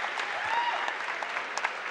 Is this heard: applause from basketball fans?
yes